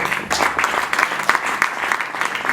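A church congregation applauds during a pastors' consecration service, producing a lively, continuous burst of clapping with some cheering mixed in.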